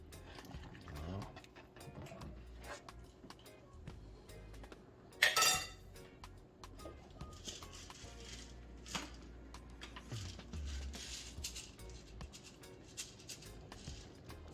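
A cooking pot is scraped while Jamaican steamed fish and fish tea are being made. Scattered metallic clinks and scrapes sound close by, with one sharper clatter midway, under faint background talk.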